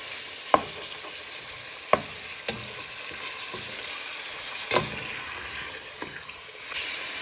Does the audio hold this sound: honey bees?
no